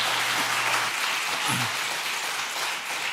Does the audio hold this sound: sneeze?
no